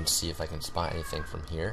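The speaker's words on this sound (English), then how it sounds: "sorry if you guys can hear that meowing in the background" A cat meows in the background while a person talks over it.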